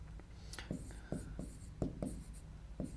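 Chalk or marker writing on a classroom board makes soft, faint scratching strokes and light taps in an irregular rhythm, with quiet room noise underneath.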